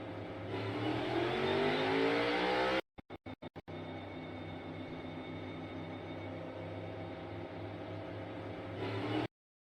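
NASCAR race cars accelerating in a jump start, a loud roar of engines revving and building, broken by a brief choppy gap before the sustained engine drone resumes and runs on steadily.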